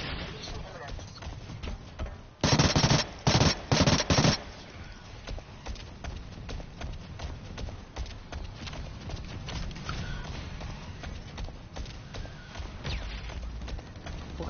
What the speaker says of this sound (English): It's like a machine pistol kind of thing, like automatic pistol.